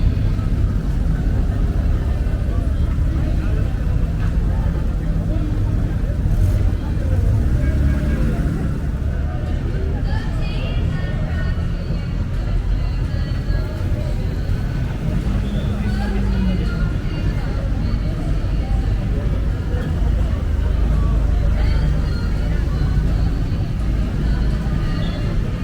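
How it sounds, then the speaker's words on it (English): Several motorcycles of a French biker gang rumble in and idle close by, a low continuous engine drone with occasional revving, mixed with crowd chatter and background traffic. "So these biker guys, the French biker gang has arrived."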